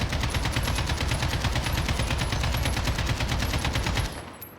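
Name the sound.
AK-47 gunfire in Modern Warfare video game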